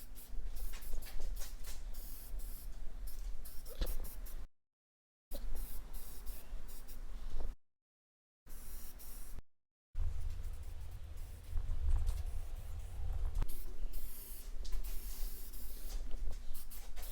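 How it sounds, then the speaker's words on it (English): A light coat of primer sprayed from an aerosol can onto a metal hot tub table project, a steady close hiss broken by a few short pauses between passes. "I'm gonna spray just a light coat of primer."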